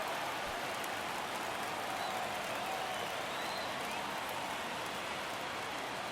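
A stadium crowd in the baseball video game MLB The Show 23 gives off a steady, distant roar like soft rain or applause. It stays faint and even throughout.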